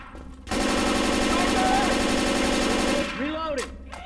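Sustained automatic rifle fire in Left 4 Dead 2, a loud close stream of rapid shots lasting several seconds, followed by metallic reloading clatter.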